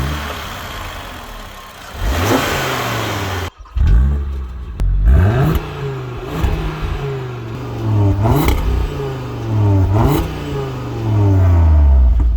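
An Audi RS 3 Sportback's 2.5-litre five-cylinder turbo TFSI engine revs repeatedly up close, rising through several loud sweeps with short pauses between, ending in a sustained high rev.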